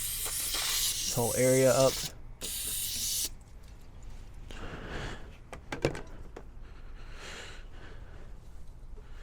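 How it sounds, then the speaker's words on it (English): A short burst of aerosol spray as brake cleaner is blasted from a can, followed by someone speaking briefly and quieter rubbing and handling noises nearby. "I need a fresh brake clean. Fresh can of brake clean."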